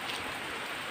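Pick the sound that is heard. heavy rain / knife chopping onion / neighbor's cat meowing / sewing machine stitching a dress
heavy rain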